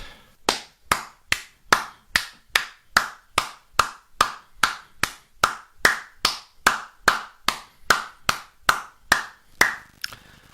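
Slow, deliberate hand clapping, about two dozen sharp claps at a steady, even pace, close and alone with no other sound.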